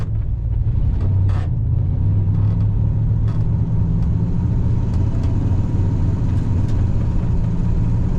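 Engine of a 1989 Oldsmobile Custom Cruiser wagon pulling through its four gears, a steady close low rumble with no voices.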